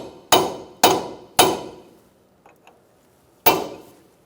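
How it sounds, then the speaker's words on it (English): A sledgehammer strikes a cold chisel to peen a nut on a 2004-2009 Mazda 3 front strut assembly: three sharp metallic blows in quick rhythm, a pause with faint taps, then a fourth loud ringing hit. "Make sure you peen your nut using a cold chisel and a sledgehammer."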